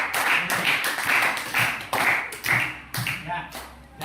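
Students in a classroom clapping in short uneven bursts, moderately loud and close, with a voice talking over much of it.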